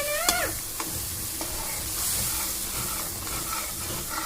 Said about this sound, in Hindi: अच्छी तरह से इसको चलाते रहेंगे, चलाते रहेंगे, चलाते रहेंगे।